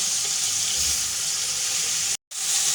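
Fish sizzling in a hot pan after being turned while cooking a jackfruit curry with prawns, a steady hissing fry with a brief cut-out near the end.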